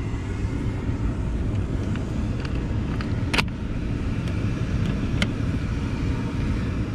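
A furnace blower runs steadily in a heating system, a broad, continuous whoosh with low rumble, with a few faint clicks and taps over it.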